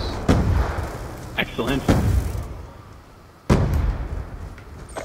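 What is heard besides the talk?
sentry gun firing in a video game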